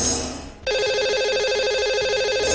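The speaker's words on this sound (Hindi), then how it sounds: "आइए उन्हें फोन लगाते हैं।" A telephone ring on a radio phone-in line as the host dials a lucky caller, with a repeating electronic ringback tone that starts after a brief dial noise and continues steadily, loud and alone.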